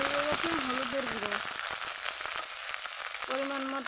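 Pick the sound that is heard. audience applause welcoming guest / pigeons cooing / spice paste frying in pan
spice paste frying in pan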